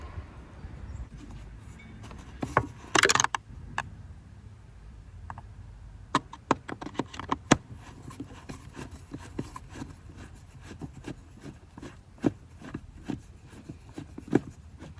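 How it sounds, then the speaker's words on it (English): Screws being removed from the air filter housing of a Mini Countryman: a close, quiet session of small ticks, rubs and clicks from a tool working the screws, with a brief louder rattle near the start. "Start by removing the 3 screws."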